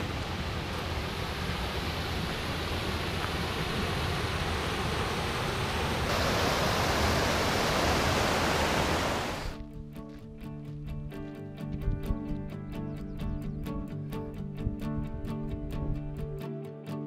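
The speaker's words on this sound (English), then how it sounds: "That's Woods Creek down" A steady rushing of flowing creek water from Woods Creek fills the first half, then cuts off abruptly into quieter, unrelated sound.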